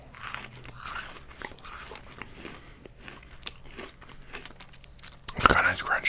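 Close, whispery bites and crunches into flaky peanut butter Halloween candy, a series of sharp crisp snaps with soft chewing between them, ending in a louder burst of crunching, with a faint whispering voice at times.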